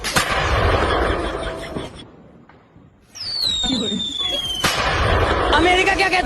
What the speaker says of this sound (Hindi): दिवाली पर बिना पैसों के भी पटाखे फोड़े जा सकते हैं